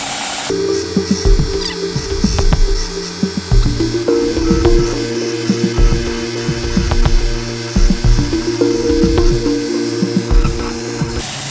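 A belt grinder works a forged knife blade, its motor whining steadily while the steel is pressed on and lifted off in repeated rhythmic bursts of gritty, loud grinding, close by and without speech.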